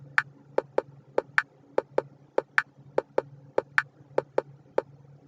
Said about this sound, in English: This is how a swing beat song is supposed to sound.